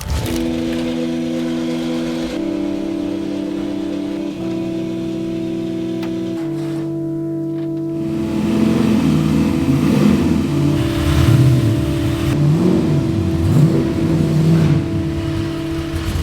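A car engine on a dyno revs up and down steadily, loud and close, with harmonic tones climbing and wavering through the second half.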